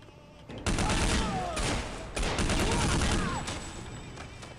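Dense gunfire in the video game Counter-Strike Condition Zero, two loud sustained bursts of rapid shots close up with ringing tails, filling the clip with no speech.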